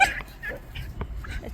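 A dog gives short high whimpers and small yips, scattered in brief bursts at close range over a low background, with faint voice-like sounds mixed in.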